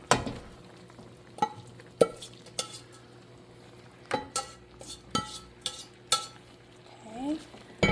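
Drained pasta is tossed in a creamy mushroom sauce in a pan, with a string of sharp utensil scrapes and clacks against the metal over a soft, low sizzle, close and irregular.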